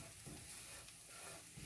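Dry grated coconut roasts in a pan with a faint, steady sizzle and occasional soft stirring scrapes. It is quiet and continuous, and no one speaks.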